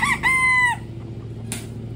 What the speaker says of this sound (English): that crow that you just heard was my Splash Silkie rooster here.